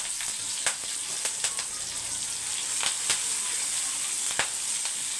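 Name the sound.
garlic, dried chilli and curry leaves frying in oil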